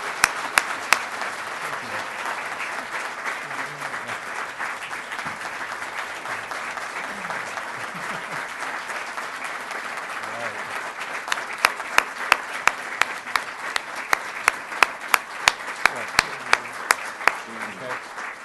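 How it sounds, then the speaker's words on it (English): Steady, moderately loud audience applause fills a hall at an NNSA tenth anniversary celebration, a dense patter of many hands that grows sharper with a few louder individual claps toward the end. "I'd love to get a good round of applause for Mike Cain."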